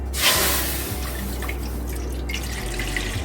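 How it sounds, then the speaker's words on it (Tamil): Water splashes and trickles into a cooking pot of roasted ragi flour, starting with a bright pour then settling into a steady gurgling stream with low hum beneath; no talking. "1 கப்பு மாவுக்கு நான் 1 கப்பு தண்ணி விடுறேன்"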